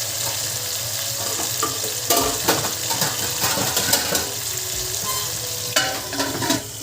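Nellore botcha fish curry with tomatoes sizzles and fries in a pan while a spoon stirs and scrapes, steady crackling frying with intermittent metallic clinks and scrapes, close and fairly loud, with no talking.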